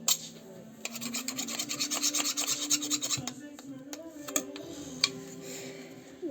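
Steady back-and-forth rasp of hand sanding on a workpiece, rhythmic rubbing strokes close up with faint ticks, no talk.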